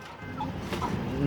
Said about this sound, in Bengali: মুরগিগুলো একদম খাবার বেশি নষ্ট করে